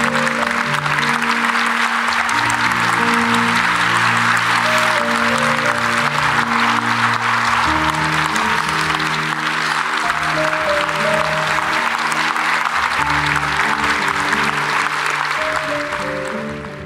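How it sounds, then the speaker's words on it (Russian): An audience at a memorial event in Ufa claps steadily for a long stretch, with loud music playing underneath the dense applause before it tapers off. "Аплодисменты ему."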